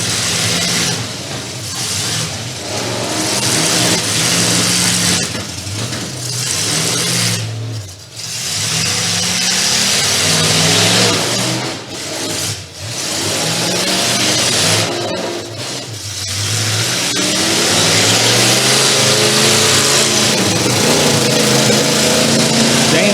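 Demolition derby cars roar at the Great Stoneboro Fair at night, their engines revving and surging in long, loud waves with brief dips, a continuous close mechanical din.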